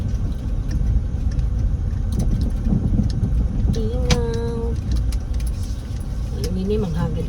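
Road traffic rolls past in a continuous loud rumble of engines and tyres, with voices talking over it and a brief whistling tone partway through.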